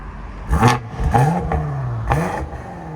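Three sharp throttle blips from a 900hp BMW X6 M Competition with downpipes and Vibrant resonators, exhaust valves closed, each a loud, close bark that falls away into a steady idle rumble between revs.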